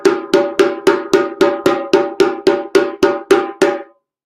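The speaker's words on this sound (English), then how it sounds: "And if you have a djembe, it will sound like this." Tone strokes on a djembe, about a dozen bright, ringing hand slaps struck at a steady, even pace, each one close and loud with a short decaying ring.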